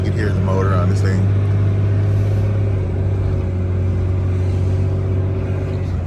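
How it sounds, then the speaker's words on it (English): Steady, loud drone of a truck engine pulling a loaded 24,000 lb GVWR hooklift trailer up a steep residential street, a low continuous hum with a faint voice briefly over it near the start. "It's pretty good steep, so you can hear the motor on this thing."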